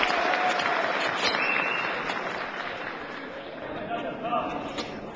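Applause for mayor Ben Leocádio at a public hearing in Brazil's Chamber, a sustained crowd clapping that swells and fades gently across the room, with voices murmuring underneath.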